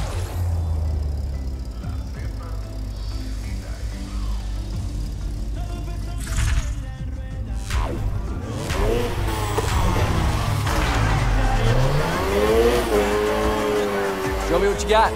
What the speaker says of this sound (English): Slam on the gas to initiate, then steering and control is all up to you.